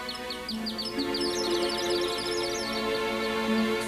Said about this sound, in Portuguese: Dentro do mecanismo, uma série de engrenagens, cordas e polias faziam o pássaro cantar quando a roda girava.